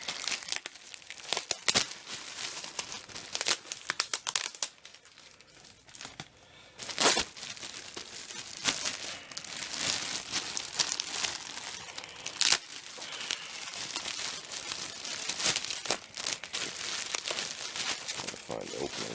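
Packing tape being handled and peeled on a package of surplus army ACU camo pants, with crinkly plastic rustling and sharp tearing bursts, close up and irregular.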